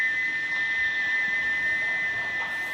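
A single steady, shrill steam locomotive whistle blows continuously without a break, loud and sustained over a faint hiss.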